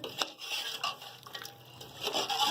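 Spices are mixed into chicken korma in a pot, a short run of close scraping and rubbing strokes with light utensil knocks against the pan.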